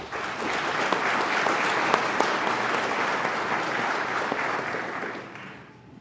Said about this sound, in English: let's keep clapping for the staff here that trained